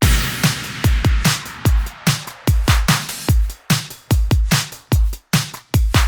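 A programmed dance-pop drum groove for a song remake lays punchy kicks, hi-hats, extra percussion and a few claps into a tight, driving, loud loop with no voices.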